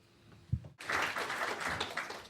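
Audience at an aerospace panel session on commercial crew and cargo breaks into applause after a brief thump, a dense clapping wash that holds steady to the end.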